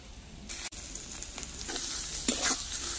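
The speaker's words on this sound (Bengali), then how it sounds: "তো একটু চিনি দিয়ে আবার একটু নাড়িয়ে চাড়িয়ে নিয়ে নামিয়ে নেব।" Ridge gourd peel dish being stirred with sugar in a pan near the end of cooking: a faint sizzle with a sharp knock and several scraping strokes of the spoon, no one speaking.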